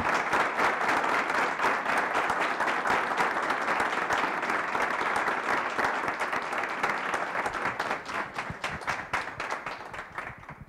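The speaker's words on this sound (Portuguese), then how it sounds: "Uma salva de palmas para o nosso palestrante." An audience applauds a lecturer at an inaugural postgraduate lecture on logistics, mobilization and environment, with dense, steady clapping from a full room that thins and tapers off toward the end.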